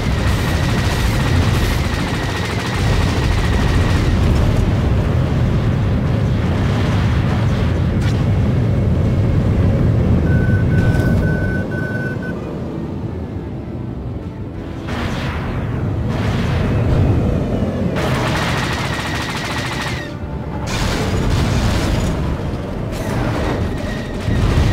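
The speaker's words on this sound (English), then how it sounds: "Brace for missile impact." Missile impacts in a Star Wars: The Old Republic starfighter battle land as loud, sustained rumbling blasts and bursts of fire, with a low roar throughout and brief beeping tones, and no talking.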